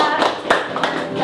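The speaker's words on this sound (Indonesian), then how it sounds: "tepuk tangan buat Tuhan kita" Hands clapping from a church Sunday school congregation, a short burst of overlapping claps with a loud peak midway, some voices mixed in.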